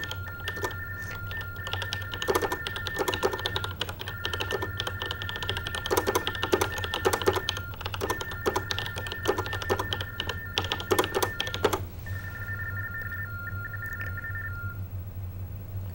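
Typing on a keyboard during a relay phone call, with rapid, uneven clusters of key clicks running over repeating bursts of electronic TTY line tones that stop and restart, followed by a quieter stretch of tones alone.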